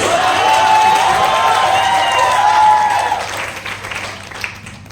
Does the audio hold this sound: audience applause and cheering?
yes